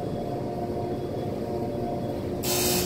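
Delaware hydraulic elevator motor in a condominium, a steady low hum with a constant tonal buzz running throughout, joined near the end by a sudden burst of broadband hiss.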